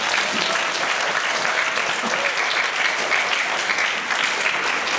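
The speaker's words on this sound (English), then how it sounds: "let's give a round of applause to the teachers and the curriculum development" A school assembly audience applauds the teachers with sustained, dense clapping from many hands, loud and even from start to finish.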